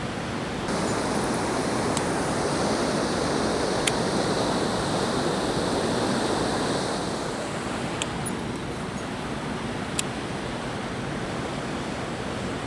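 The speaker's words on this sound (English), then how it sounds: "Neat looking spillway." Steady broadband rush of water pouring over a river spillway in the northwoods, continuous and fairly loud throughout with a few faint clicks, no voices.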